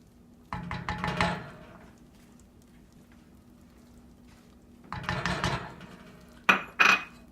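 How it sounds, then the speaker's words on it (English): Spoon scraping and clinking against a bowl while peanut butter is stirred into a no-bake cookie mixture, in two bursts of busy tapping and scraping with a quiet pause between, ending in a couple of sharper knocks. "And you want to mix this in completely."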